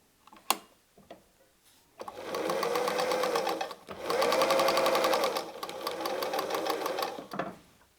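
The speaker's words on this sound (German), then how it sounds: "Und wir nähen einmal ganz genau über unseren Strich." A sewing machine stitches patchwork star fabric pieces along a marked line, running in three steady whirring bursts with short stops between them, close and loud, after a few handling clicks.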